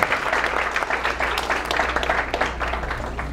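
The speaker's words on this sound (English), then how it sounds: "Let's give them all one more big round of applause for everybody." A conference audience gives a warm round of applause, steady dense clapping over a low room hum, moderately loud and continuous with no talk on top.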